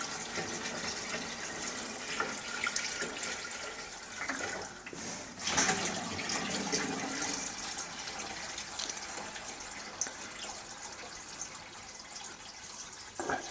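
Maple sap running at the start of sugaring season, a steady trickling, splashing flow of liquid that continues throughout, with a brief louder gush midway.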